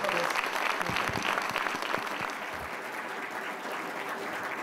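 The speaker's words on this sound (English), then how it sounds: "So if I could get a real quick round of applause for Chris for everything he's done today" Audience applause at the 2012 Nimitz Memorial Lectureship, a naval lecture event: a full room clapping steadily, loud at first and then easing slightly while holding on through the end.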